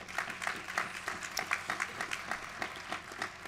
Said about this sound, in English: let's give our Master of Ceremonies a great round of applause